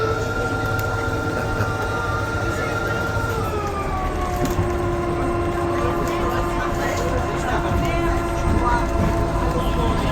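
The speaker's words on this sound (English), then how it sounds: "Right, we're on the train" Steady low rumble of a wooden train in motion on the line to Soller, Mallorca, with tonal whine and hum, continuous and close, as if heard from inside a carriage.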